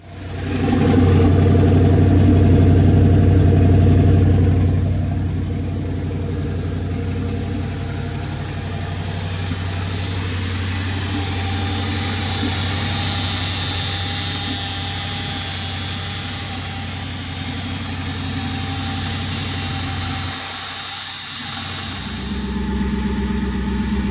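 A Chevy Silverado with a swapped-in 6.0 V8 and five-speed manual idles steadily after the conversion, a loud continuous engine drone that dips briefly near the end before picking back up.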